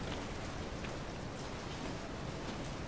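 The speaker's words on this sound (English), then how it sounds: "it's raining outside" Steady, dense video-game rain hiss from Resident Evil 7 with no pauses, a constant wash of falling water that fills the whole clip.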